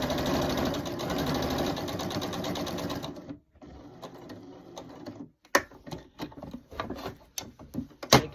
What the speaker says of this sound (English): I'm going to go to the edge, other edge,